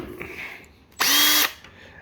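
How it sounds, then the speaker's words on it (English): A power drill bores a hole in metal for Toyota Hilux tub-chop brackets, one short loud whine of about half a second with a steady pitch, surrounded by a quiet room. "I'll just drill the hole with that."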